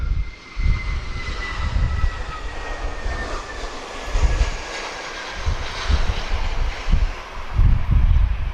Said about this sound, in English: So this aircraft's been airborne 2 hours and 4 minutes.